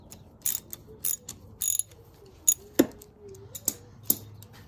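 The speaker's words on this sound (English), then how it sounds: "now I'm gonna remove the oil fill plug with a 13 mil." A 13 mm wrench works the oil fill plug loose on a 2012 KTM 250 XCF-W dirt bike, with sharp metallic ratchet clicks in short separate bursts, close and otherwise quiet.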